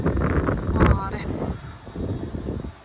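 Outdoor wind on a hot day buffets the microphone with a rough, gusty low rumble that rises and falls, close and fairly loud, while a voice seems to talk faintly underneath.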